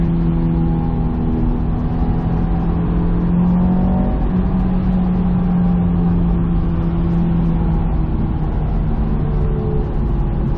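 Engine of a 2007 Honda S2000 AP2 pulling hard in third gear, a steady loud mid-pitched drone that rises gradually, heard from inside the car with no talking.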